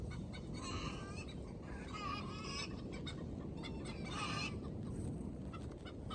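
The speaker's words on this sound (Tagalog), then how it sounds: "ang ingay ng mga manok" A noisy flock of chickens calls constantly in a garden, with honking and clucking cries layered over a dense, steady outdoor din.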